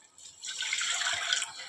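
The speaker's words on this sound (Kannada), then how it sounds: "ಈಗ ಅನ್ನ ಆಗಕ್ಕೆ ಎಷ್ಟು ನೀರು ಬೇಕಲ್ಲ ಅಷ್ಟು ನೀರು ಹಾಕೊಂಡ್ಬಿಡೋದು" Water is poured into a pot to cook rice in a home kitchen, making a short, soft splashing gush that swells for about a second and then eases off.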